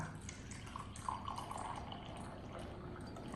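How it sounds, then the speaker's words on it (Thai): Hot water poured into a container while making Thai green tea with a moka pot, a continuous soft watery trickle with steady splashing throughout, fairly faint and with no talk. "นี่ก็ใส่น้ำร้อนมา 6 ออนก่อนเลยค่ะ"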